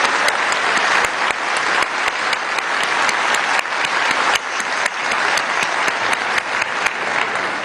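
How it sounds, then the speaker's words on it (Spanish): An audience at an award ceremony for the Premio Libertador al Pensamiento Crítico claps steadily and loudly, a dense and continuous applause with sharp individual claps that lasts the whole stretch. "el compañero obrero Nicolás Maduro Moro, para quien pido un buen aplauso,"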